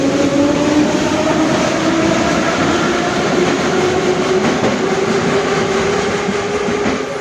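Loud, steady rumble and rattle of a metro train heard from inside while riding, with a droning motor whine rising in pitch and constant clatter throughout.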